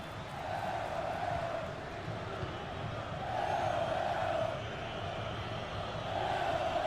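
A stadium crowd in a football video game roars steadily, swelling and easing in broad waves, a dense continuous wash of cheering with no other sounds standing out.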